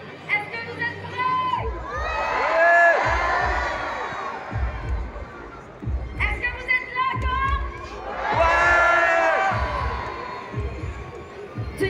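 A large crowd cheers and shouts in two loud swelling waves at the Olympic torch relay in Caen, with excited children's voices rising over a rhythmic thumping beat.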